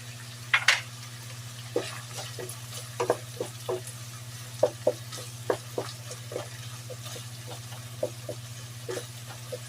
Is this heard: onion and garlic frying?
yes